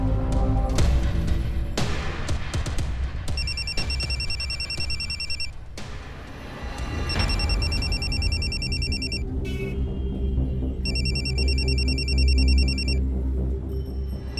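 A telephone rings repeatedly, bright electronic bell bursts in regular pulses repeating over a steady low background hum, with no speech.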